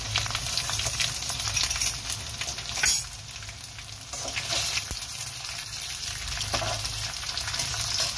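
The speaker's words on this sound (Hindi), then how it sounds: "इसमें अदरक लहसुन का पेस्ट ऐड करेंगे।" Onions frying with ginger garlic paste in a pan, a steady loud sizzle with stirring scrapes and a few louder bursts, continuous and close with no talking.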